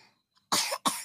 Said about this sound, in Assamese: কাহো হৈছে